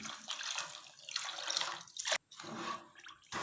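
About 2.25 cups of water is poured into a pan already holding 3 cups of sugar for jalebi syrup, a soft splashing trickle that comes in uneven bursts with brief pauses, quiet and close.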